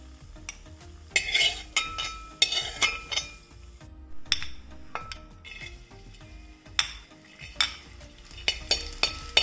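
Raisins frying in ghee in an uruli, stirred: a steady close sizzle under repeated bursts of spoon scraping and clinking against the metal pan, irregular and busy throughout.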